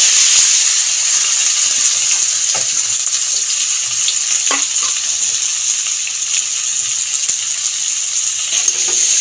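Hand-made bori fried with spices and cumin tempering in a pan, a steady bright sizzle running throughout with a few faint scrapes and clinks, close and fairly loud, no talking.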